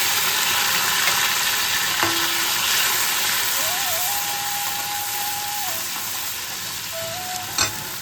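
A paste of cumin, coriander, ginger and green chilli hits hot oil with a continuous bright sizzle and stirring, with faint tonal beeps in the background.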